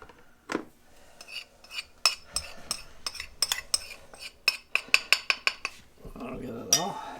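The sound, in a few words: mixing ingredients in a bowl with utensil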